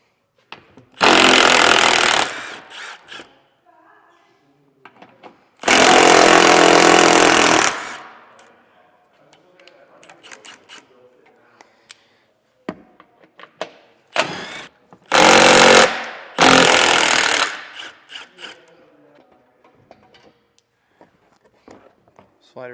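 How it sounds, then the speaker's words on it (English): Power tool with a 15mm socket spinning out the skid plate bolts on a 2022 Ford Bronco, several loud buzzing bursts of a few seconds each separated by quiet pauses, close up, with a little talking between. "We're going to remove the 6 bolts holding our skid plate in place"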